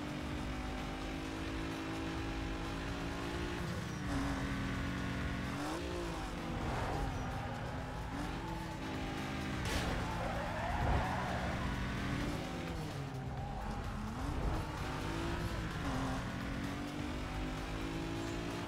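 A race car in Need for Speed Most Wanted drives hard with a steady loud engine drone, tires squealing and skidding through turns, accompanied by busy game music.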